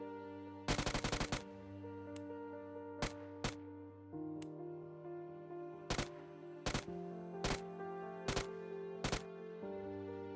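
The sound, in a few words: UMP45 submachine gun firing in PUBG video game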